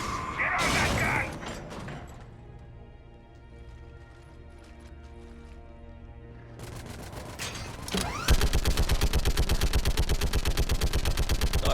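Gunfire in the video game Mass Effect 3 rattles in rapid automatic bursts, with a sustained mounted-gun volley at the end, mixed with game music and mechanical clatter.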